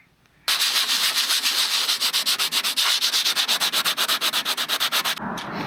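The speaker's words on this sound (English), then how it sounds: "So I'm gonna have to sand that a little bit more aggressively" Aggressive hand sanding along the sides of an E-70 rack, a loud close rasp in fast regular back-and-forth strokes that starts abruptly after a short quiet moment and stops near the end, with no talking.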